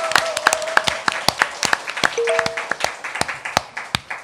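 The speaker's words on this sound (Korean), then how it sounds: "여러분의 힘찬 박수와 함께 시작하겠습니다." A studio audience claps to open the Korean current-affairs talk show Mammais. It is a loose, patchy round of close, crisp claps with uneven rhythm and a few brief tonal blips, and no one talks.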